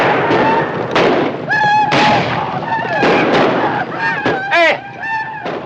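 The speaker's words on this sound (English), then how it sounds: "don't shoot across the wagons. You might hit one of our own men" Gunfire and battle clamor from a 1950 western film fight around wagons, dense booming shots and cries layered together loudly, with voices shouting through the din.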